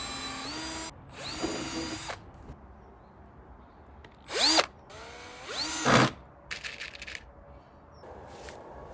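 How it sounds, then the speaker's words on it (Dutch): A power drill pre-drilling holes to fix angle irons onto wooden beams for a homemade skate rail, running in several short whirring bursts separated by pauses, close and loud, with handling noises between. "voorboor is de sleutel tot succes. Maak eerst de hoekijzers aan de uiteinden vast."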